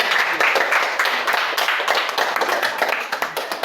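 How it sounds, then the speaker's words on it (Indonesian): A classroom group of students gives a short round of hand clapping for the first group, with quick, dense claps that continue steadily for a few seconds and trail into looser individual claps near the end. "Kita berikan tepuk tangan untuk kelompok 1 dulu."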